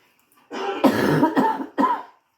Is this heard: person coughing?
yes